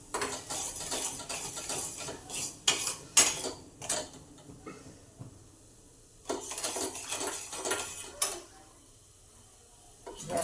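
Spoon clinking and scraping in a pan as turmeric, Kashmiri chili, red chili and coriander powder are stirred into a mung bean curry, in irregular bursts with short quiet gaps.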